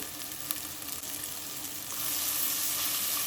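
Sliced onions sautéing with crushed ginger and garlic in a pan for a chicken roast, a steady close sizzle that grows slightly louder and denser toward the end, with no voices.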